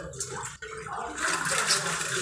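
Water poured from a container onto a block of ice gives a steady, hissing splash that briefly dips, then returns fuller and louder, running continuously throughout.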